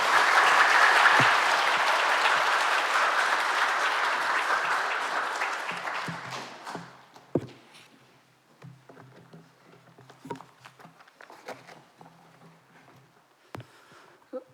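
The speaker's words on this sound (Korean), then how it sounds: "우리 박수 한번 해주시고 환영해 주시기를 바랍니다." A church congregation at a Sunday morning service claps to welcome an elder to the front, dense sustained applause for about six seconds that fades out, leaving a quiet hall with scattered small noises.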